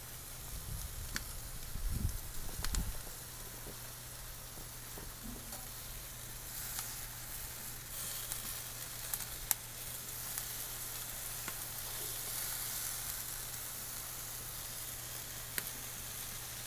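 Roasted peppers sizzling on a grill, a steady, soft frying hiss running throughout with a few low thumps near the start.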